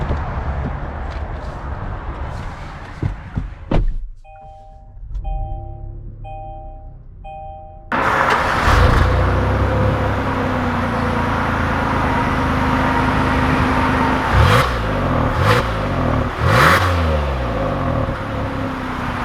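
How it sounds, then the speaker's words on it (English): A 2020 Kia Sorento EX starting up and pulling away, with soft chimes from the cabin, then a steady engine hum and road noise inside the car as it drives, punctuated by a few brief clicks. "let's take the Sorento out and see how it drives."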